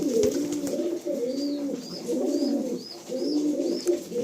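Pigeons in a loft near an airport, with repeated low rolling coos in a steady rhythm close by and a faint higher whistle or chirp over them.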